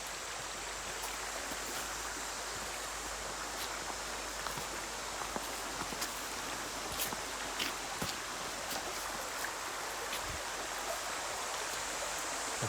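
A small river runs steadily over a sandy bottom at a nature preserve, its continuous close babble and trickle filling the scene with no talk over it.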